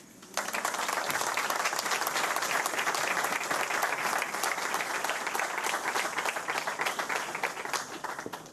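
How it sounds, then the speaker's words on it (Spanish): Audience applause at a ceremony in Torre Pacheco naming an adopted son of the town, a dense, sustained burst of clapping that swells in quickly and holds steady, fading slightly near the end. "Un aplauso."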